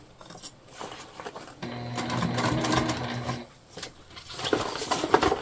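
A sewing machine stitches through a heavy tote bag with webbing, one sustained close run of rapid needle clatter in the middle, with lighter handling noises before and after.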